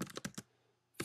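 Quick bursts of keystrokes on a computer keyboard, a few rapid clusters of clicks, then a short pause before another burst of typing, close and clear with no talking.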